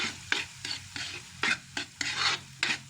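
A spoon stirs chayote sisig in a pan, giving close, repeated scraping strokes over a low sizzle, about every third of a second.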